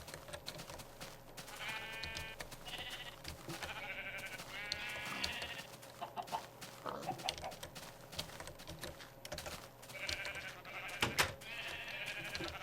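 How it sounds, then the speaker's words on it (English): Sheep in the Minecraft video game bleat in short repeated calls near a small pen, heard against steady background noise and clicking of a computer keyboard. "leading all these sheep directly into this little pen that I built"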